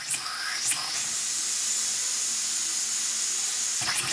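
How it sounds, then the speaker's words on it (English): A homemade simple steam engine leaks steam, giving a loud, steady high hiss that runs for several seconds with brief sputtering bursts at the start and end. "There's not enough steam going through there."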